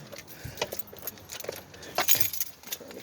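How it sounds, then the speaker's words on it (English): Keys jangling and clinking quietly near a 2004 Ford F-150 with the 5.4-litre Triton, in short scattered bursts with one brighter rattle partway through. "I fumbled the keys"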